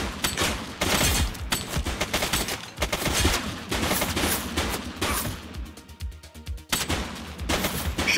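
Sustained loud gunfire fills a shootout in the police game The Precinct, with dense overlapping shots and rapid automatic bursts, including a clipped rattling volley near the end.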